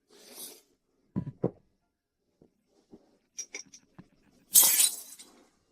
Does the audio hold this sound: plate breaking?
yes